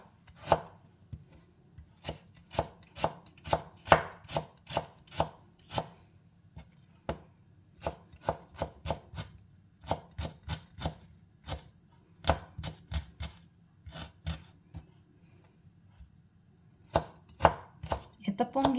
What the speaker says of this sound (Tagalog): maghiwa din tayo ng konting luya. Tapos, ihiwain lang natin ng maninipis